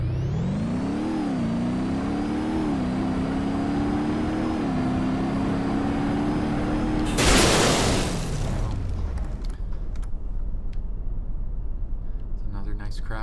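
An ETK K-series car in BeamNG.drive accelerates with a rising, whining engine note that shifts through gears, then slams into a concrete barrier in a loud burst of crashing noise, followed by scattered clatter and a low rumble fading out.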